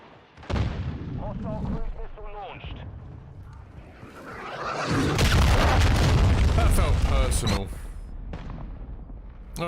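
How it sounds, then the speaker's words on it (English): A flash grenade goes off in Call of Duty Modern Warfare 2 during online play, a loud booming blast with a sustained rumbling tail amid other game noise and someone talking over it. "Throwing flash grenade."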